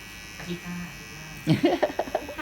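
Electric hair clippers cutting hair during a high-taper men's haircut, a close buzzing burst that follows a brief low voice and then pulses in short uneven strokes.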